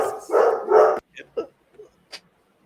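A dog gives two loud, drawn-out barks or howls close by, then a few short, quieter yips and whimpers trail off after a pause.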